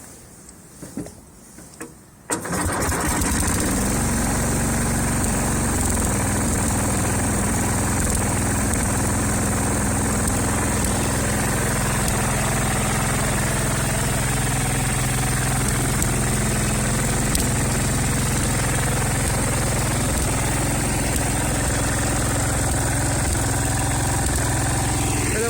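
A Cub Cadet tractor engine cranks briefly and catches after about two seconds. It then settles into a loud, steady, close running drone that continues uninterrupted.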